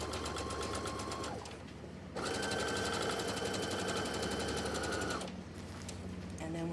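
A sewing machine set to a long stitch length for gathering stitches runs in fast, even bursts with a short pause between them, near and fairly quiet, with no talking.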